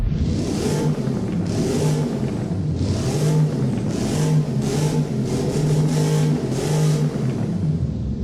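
A 2013 Gumpert Apollo Enrage in the video game Driving Empire revs repeatedly in neutral, its engine rising and falling in a steady series of loud, close bursts with no talk over it.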